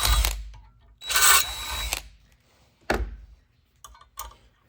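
A 1/4-inch drill bit grinds in short bursts while failing to push through a mounting hole on a Carbon Cub SS aircraft during coil pack replacement, with loud whirring pulses and mechanical clicks between pauses.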